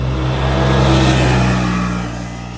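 Off-road vehicles on mountain trails near a house send a loud, sustained engine drone that swells and revs, then eases off slightly, with no talking.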